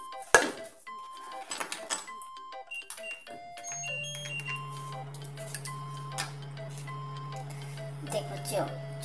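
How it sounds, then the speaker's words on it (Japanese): A frying pan being handled in a kitchen, metallic clanks and scrapes of cookware and utensils with a sustained ringing tone, while a person talks throughout. "今フライパン用意してるから"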